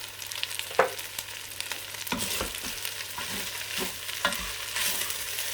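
Ham stir fry cooking in a Ninja Foodi, with a steady sizzle running under sharp scraping stirs and utensil knocks that recur every second or so, close and moderately loud, with no talking.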